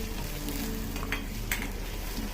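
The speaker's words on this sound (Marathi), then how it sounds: "आता कांदा आपल्याला खूप जास्त लाल करायचा नाही आहे हलकासा गुलाबी रंगावर आपल्याला तो अगदी व्यवस्थित परतून घ्यायचा आहे" Onion sautéing in a steel kadai for a spicy ridge gourd vegetable dish, a soft continuous sizzle with occasional light scraping of a spoon stirring against the pan.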